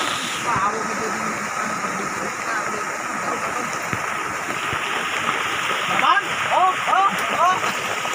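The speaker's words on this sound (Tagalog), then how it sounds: "Pero papalakas na papakas yung tubig" Rushing stream water in a mountain creek, a steady broadband gush that swells slightly louder toward the end, with people talking over it.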